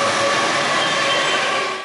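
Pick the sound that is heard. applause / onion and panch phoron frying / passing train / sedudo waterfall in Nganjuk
passing train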